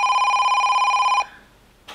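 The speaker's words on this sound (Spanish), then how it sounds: "que alguien coja el puñetero teléfono" A telephone rings once, loud and close, with a steady trilling electronic bell that stops abruptly, followed by a short clatter.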